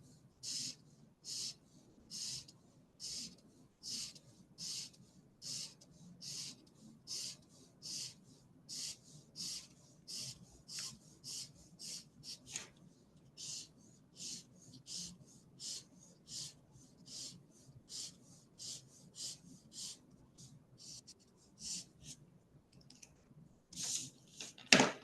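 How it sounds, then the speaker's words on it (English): Rhythmic strokes shade a 3D perspective sketch on paper. The scratchy rubbing comes in quick regular bursts, close and quiet, with short pauses and no voices. "Just to differentiate it from the both the surfaces, I am shading it."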